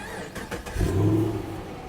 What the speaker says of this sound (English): The exhaust sounds decent.